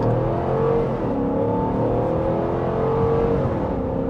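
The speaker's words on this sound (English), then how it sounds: "And I like the grunt from this Hemi too." A 2025 Dodge Durango with a Hemi V8 accelerating, a steady loud engine roar heard from inside the cabin, holding a deep grunt throughout with no talk.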